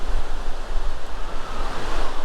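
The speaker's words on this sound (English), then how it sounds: "Pretty windy." Steady, roaring wind buffets the microphone at Australia Zoo with a constant rumble and hiss, gusting slightly louder at times, with no voices.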